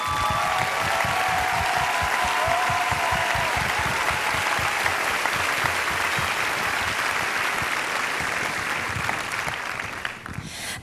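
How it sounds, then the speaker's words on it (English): A large pageant audience at Miss Oklahoma 2010 gives steady, dense applause that stays loud and continuous throughout, then trails off slightly at the very end. "If Taylor's family would please stand, this applause is for you."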